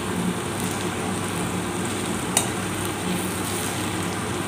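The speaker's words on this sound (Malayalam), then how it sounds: "അപ്പോൾ നമ്മുടെ ചിക്കനെല്ലാം നല്ല ഫ്രൈ ആയിട്ട് വന്നിട്ടുണ്ട്." Chicken pieces frying in coconut oil, a steady dense sizzle with soft crackle and a brief sharp pop midway, close and continuous with no voices.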